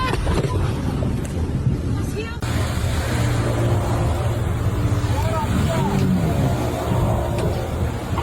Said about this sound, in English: This out-of-control boat created a terrifying scene on the water